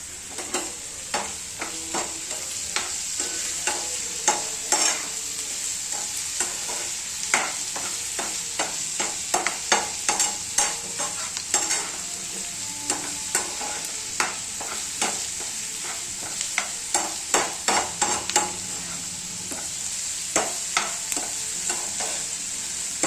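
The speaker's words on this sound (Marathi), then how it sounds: "कांदा पटकन भाजून होतो" Salted onion fries in a pan under a continuous hiss, with many quick stirring taps and scrapes scattered irregularly across the long stretch, close up and with no talk.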